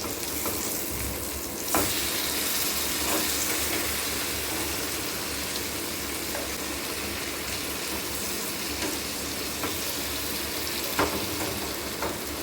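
Marinated paneer fries in butter in a home kitchen with a steady, close sizzle, lightly stirred, with a few soft clinks and scrapes breaking through the constant hiss.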